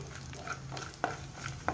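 Raw peanuts fry in hot oil, giving a faint, soft sizzle broken by small scattered crackles and pops.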